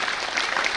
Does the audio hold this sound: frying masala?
no